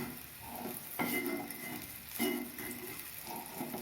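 Brinjal shallow-frying in a pan over a low flame, with a soft steady sizzle broken by two distinct stirring scrapes of a spatula against the pan, close and fairly quiet.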